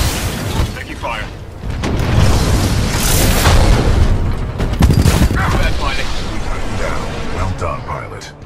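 Rapid gunfire and heavy impacts striking a Titan mech in Titanfall 2, dense bursts of shots and booms in a loud, continuous barrage, with voices talking through the chaos.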